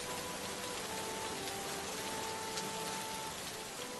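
Steady cartoon rainfall hisses as a dense, even wash of falling drops, with no voices.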